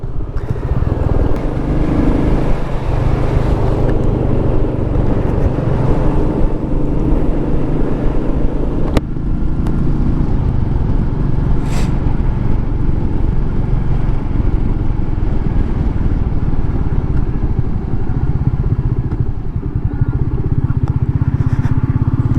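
Royal Enfield Meteor 350 motorcycle being ridden, a steady close engine drone with wind rumble running continuously throughout, loud and unbroken.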